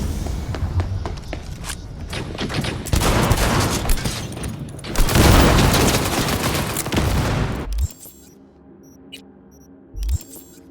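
Gunfire in Cyberpunk 2077, sustained rapid automatic bursts roaring loud for about eight seconds, then cutting off to quiet ambience with a single heavy thud near the end.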